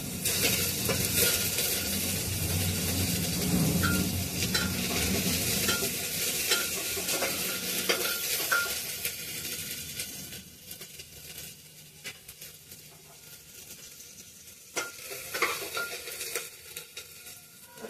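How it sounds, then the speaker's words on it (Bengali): Onions hitting hot oil in a little oil for a home breakfast, a loud bright sizzle with stirring scrapes and spatula clatter, gradually settling into a quieter crackle with scattered sharp taps of the utensil. "তেলটা গরম হয়ে গেছে, এবার পেঁয়াজ দেব"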